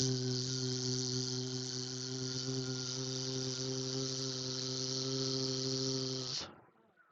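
A loud, steady insect buzz drones without a break as tabletop role-playing game ambience, thick and close, then cuts off abruptly near the end.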